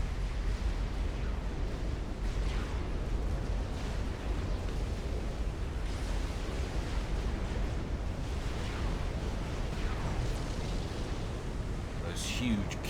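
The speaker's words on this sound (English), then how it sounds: "Those huge cannons now from those experimental battleships picking key strategic targets" Heavy cannon fire from experimental battleships in the real-time strategy game Supreme Commander rumbles as a dense, continuous low roar of distant booms layered with explosions, steady and loud throughout without clear individual shots.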